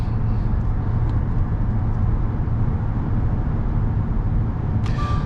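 A car cruises along a multi-lane highway, giving a steady, loud interior rumble of engine and road noise that holds evenly throughout with no talking.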